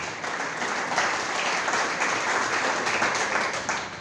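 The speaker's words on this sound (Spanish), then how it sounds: "Aplaudan al Señor si usted lo cree." A church congregation applauds steadily for about four seconds, a dense wash of many hands clapping at once with no pause.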